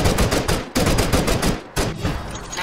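Gunfire in Counter-Strike: Global Offensive, three rapid bursts of automatic shots with short gaps between them, loud and close, no talk.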